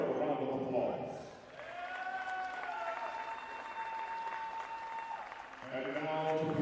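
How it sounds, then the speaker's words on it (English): Audience applause at a basketball tournament awards ceremony, a broad crowd clapping that swells and holds steadily while an announcer speaks over it through a PA. "Let's give everyone a round of applause"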